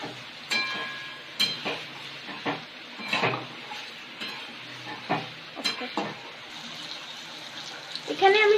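Soya chilli with chilli flakes being stirred in a pan, giving repeated scraping, clattering strokes over a low sizzle, close and moderately loud, with a voice speaking at times.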